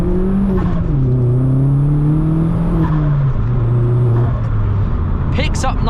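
A Vauxhall Astra VXR accelerating on a night drive, its engine note climbing in pitch through the gears with a smooth rising drone and whirring, loud and close from inside the car.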